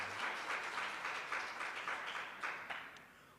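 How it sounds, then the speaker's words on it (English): A certification ceremony audience applauds companies receiving certification marks in Jamaica, steady broadband clapping that fades slightly toward the end, with a few sharper individual claps standing out. "big round of applause"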